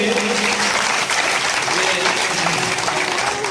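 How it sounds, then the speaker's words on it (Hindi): Applause from an audience at a Shrimad Bhagwat Katha gathering in Pragpur, steady and full throughout, with music tones and voices mixed faintly underneath. "आप भी सभी जोरदार तालियों से स्वागत करेंगे।"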